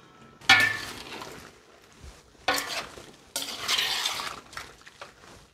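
Lamb tail fat is stirred in a pot with a spoon, giving several separate scraping, clinking bursts over a soft sizzle, each one close and fairly loud with short quiet gaps between them.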